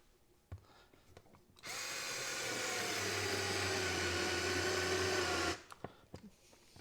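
A Ryobi 4V USB lithium twist-grip screwdriver drives a regular coarse-thread screw with a close, steady motor whir lasting about four seconds, framed by small clicks and handling taps before and after.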